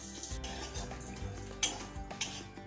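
Dal, dried red chillies and coconut dry-roasting in a pan for kothavarangai kootu, with steady scraping and stirring of a spoon against the pan and a couple of sharper metallic clinks.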